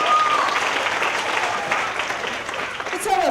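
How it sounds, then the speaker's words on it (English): A crowd at a school culmination ceremony breaks into loud, sustained applause that fills the room, with voices and cheers mixed in and a speaker's voice rising over it near the end. "It's almost impossible to hold your applause, isn't it?"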